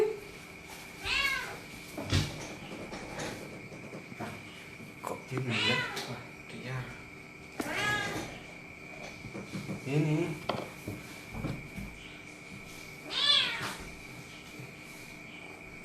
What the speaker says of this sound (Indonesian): kucing blasteran